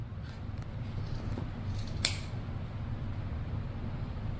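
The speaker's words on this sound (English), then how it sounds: "So you should cut it with your scissors," Scissors snip yarn while trimming a handmade pom-pom for a cat toy, giving one crisp, close cut over a steady low background hum, with no talk.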